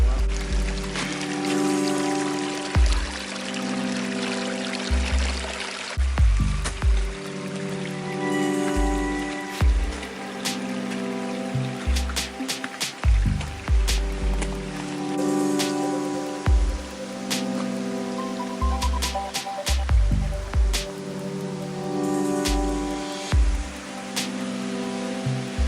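Water pours and splashes steadily at a waterfall in Sams Point Preserve, New York, on a winter hike, a continuous rushing wash with irregular low thumps and knocks running through it.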